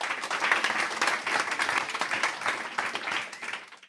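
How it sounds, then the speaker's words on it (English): An audience at a science festival quiz show claps for the contestants, a steady wash of applause from a mid-sized crowd that fades out near the end. "Give them all a round of applause."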